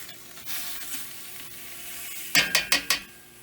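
Onions sautéing in chicken broth in a stew pot make a soft, steady sizzle, and near the end a quick series of sharp ratcheting scrapes from the stirring spoon, with no speech.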